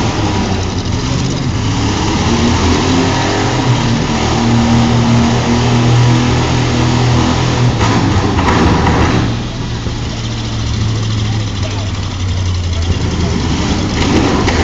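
Car engines at a six-cylinder free-for-all demolition derby in St-Antonin, with a continuous loud drone of several engines idling and revving together. A brief dip in the noise is followed by more steady roaring.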